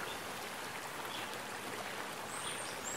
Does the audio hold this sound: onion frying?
no